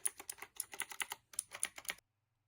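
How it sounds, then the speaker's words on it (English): Rapid clicky typing on an older mechanical computer keyboard, a dense run of sharp key clacks in bursts over about two seconds with a brief pause midway, close and fairly loud, no talking. "Very clicky, and this is the keyboard I have now."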